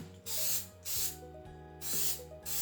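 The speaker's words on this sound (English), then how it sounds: "I'm going to spray four of the little muffin" Cooking spray hisses onto small muffin molds in three bursts, each under a second long, close to the microphone, with brief quiet gaps between them.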